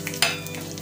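Chili pieces drop into hot oil for kadhi, giving a sudden close burst of sizzling that settles into a steady crackling fry for under a second.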